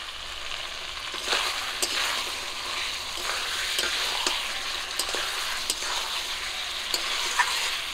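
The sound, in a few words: onion paste frying in pan for mutton kosha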